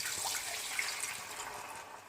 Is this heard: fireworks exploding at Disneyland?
no